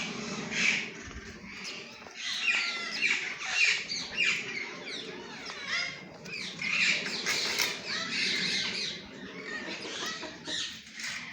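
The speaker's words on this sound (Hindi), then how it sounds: "बहुत प्यारे ये इन्होंने मोर रखे हुए हैं।" Peacocks kept on a farm give repeated sharp squawks and chattering calls over a busy background, moderately loud and irregular throughout.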